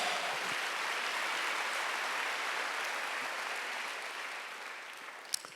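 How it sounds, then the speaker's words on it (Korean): A church congregation breaks into applause during a Wednesday worship service, a broad even roar of many hands clapping, somewhat distant, gradually easing with a single sharp knock near the end. "박수."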